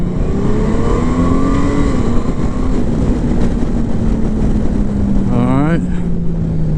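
A sixth-generation Honda Gold Wing DCT motorcycle rides along with a steady engine drone under wind rush, then a downshift sends the revs sweeping sharply upward before they drop back.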